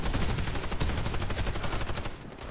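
Sustained automatic weapon fire in the online shooter Warface, a steady, fast stream of loud, close shots that runs continuously and then eases off near the end.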